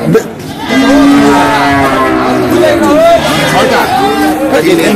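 Cattle moo loudly and repeatedly at the Hazratpur Paragram cattle market during the Qurbani season, drawn-out lowing calls over a steady crowd babble and nearby voices.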